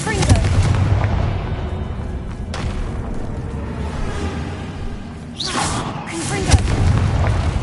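Repeated Confringo fire spell blasts in the Hogwarts Legacy video game, several loud booming bursts with whooshing trails over a dense rumbling game soundscape.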